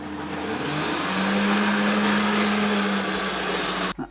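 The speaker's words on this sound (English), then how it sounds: "Probably do one bag and then blitz it and then do the other bag, just so it doesn't overwhelm the blades." A regular high-speed kitchen blender blitzing a bag of greens into a vegan pasta sauce, a loud steady whirring motor drone that holds for about three seconds and then stops abruptly.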